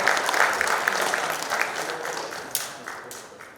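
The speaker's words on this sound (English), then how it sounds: "let us put a big round of applause for this panelist as well as the moderator" Audience at the Indian Institute of Packaging 57th Foundation Day event applauding the panelists and moderator, steady mid-distance applause that slowly fades, with a few louder individual claps standing out.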